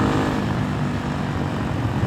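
A Honda Hawk 250 motorcycle fitted with a swapped-in Loncin RE250 engine drones steadily while riding, a constant close engine hum mixed with wind rush and no pauses.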